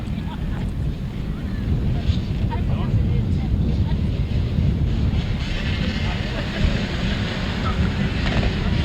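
A pack of grasstrack racing motorcycles pulls away at the start of a heat at a Good Friday meeting in Fenland, a broad, loud, steady engine roar blended with outdoor wind noise across the whole stretch.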